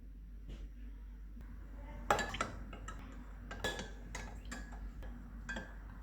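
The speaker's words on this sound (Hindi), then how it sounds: "पानी में कॉर्नफ्लोर को मिक्स करके रख लेते हैं।" Cornflour being stirred into water in a kitchen while preparing lemon pepper chicken, soft clinks and taps of a spoon against a bowl, a few sharper knocks, quiet and close with no talk.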